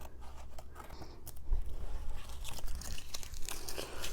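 Scissors snip around the edges of a fabric journal cover, close crisp cuts with rustling and crinkling of material in an irregular rhythm.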